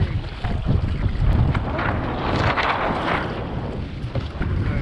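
Wind gusts and water rush around a Hobie sailboat as it tacks through the wind, with a loud, continuous blustery roar on the microphone and no voices.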